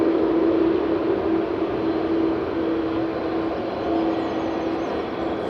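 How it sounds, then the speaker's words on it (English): An EasyJet airliner with a croaky engine tone rumbles steadily at moderate distance, a sustained low drone with a hum running through it, no voices. "Croaky sounding EasyJet over there."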